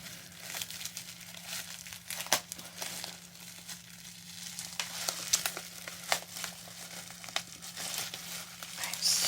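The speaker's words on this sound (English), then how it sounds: "it is in bubble wrap, so I will have to cut it open because it's like glued shut" Bubble wrap packaging around a book is cut and crinkled open, giving steady close plastic rustling and crinkling with sharper tearing snaps scattered through, alone without talk.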